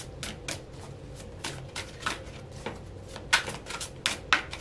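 Tarot cards being shuffled by hand, a run of soft riffling bursts with crisp slaps of card edges, close and clear, with no talking.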